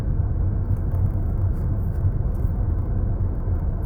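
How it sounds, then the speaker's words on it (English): A car making a weird sound, a steady, loud low rumble and drone heard from inside, continuous and unchanging. "Oh, my car sounds weird."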